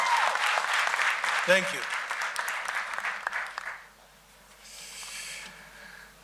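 Audience applause at a university medical centre commissioning ceremony, a loud round of clapping from a large crowd for about four seconds, then fading away as a voice briefly speaks.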